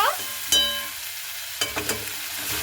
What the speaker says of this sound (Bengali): আলু আর পেঁপেটাকে দিয়ে খুব ভালো মতো করে একটু নাড়াচাড়া করে নেব